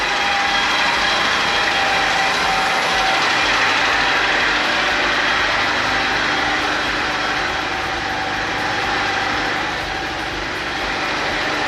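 A Honda S2000 engine, previously flooded and abandoned, runs steadily on first start with a continuous broadband rumble and hum, loud and unbroken throughout, with no voices.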